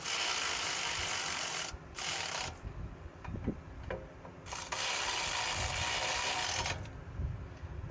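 Tightening a brake part on a RAM 1500 pickup brings long harsh grinding, rasping bursts broken by brief gaps and a few faint ratchet clicks, close by.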